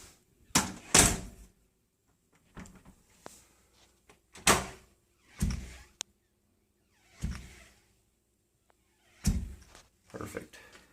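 A door with a newly repaired hinge plate swings shut without its closer, producing a series of sharp thunks and slams spaced irregularly over several seconds, loud and nearby, with some talking in between.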